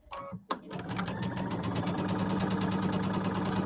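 A sewing machine stitching quilt pieces for a table topper starts up after a couple of brief clacks and then runs steadily, a close, even, rapid mechanical chatter that continues without pause.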